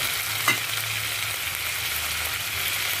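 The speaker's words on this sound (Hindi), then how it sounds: "अनियन हो गए तो अब मैं इसके अंदर डाल रही हूँ टमेटो।" Tomatoes go into a pan of frying onions for a vegetable Kolhapuri, giving a steady broad sizzle with one brief clack near the start, close and continuous, with no voices.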